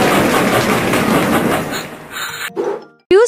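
A loud cartoon train sound effect from a children's alphabet learning game, a rumbling, rattling rush that fades out, followed by a short bright chime-like flourish at the end.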